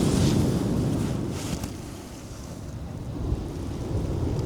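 Ocean waves crash and rumble at night on a campsite beach, a deep, continuous roar of surf mixed with gusty wind buffeting the microphone, loud and close with no voices.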